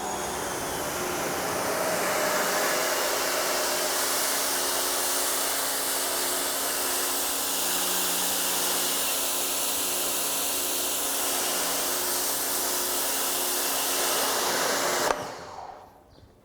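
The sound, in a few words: electric pressure washer spraying with a 15-degree tip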